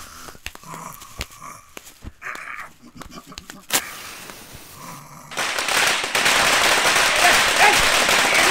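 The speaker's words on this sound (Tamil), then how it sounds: "போய் பட்டாசை வைக்கலாம்" Firecrackers go off at an outdoor gathering in a Tamil film scene: first a string of separate sharp cracks with voices and a barking dog in between, then a dense, loud, continuous crackling burst.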